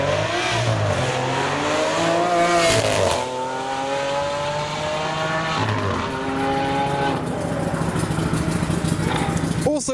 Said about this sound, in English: we should be able to get a nice shot of it on the road and see the Huber body kit as it departs